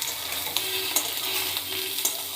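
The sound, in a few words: stirring frying vegetables in a pan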